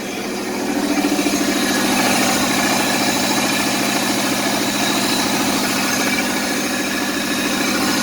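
A Pontiac Fiero engine under restoration runs at a steady, close idle, a continuous rumbling drone that rises just after the start and then holds evenly throughout.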